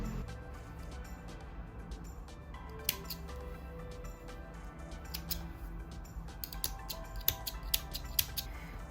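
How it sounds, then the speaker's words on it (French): Scissors snip away excess thread while sewing a fabric drawstring pouch, a series of small sharp clicks and crisp cuts scattered over the clip, clustering more densely toward the end, close up against a steady low background hum. "je coupe les excédents de fil."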